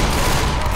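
Gunfire from the video game Left 4 Dead 2 makes a dense, loud, brief burst of rapid shots, crowding the whole moment without any voices.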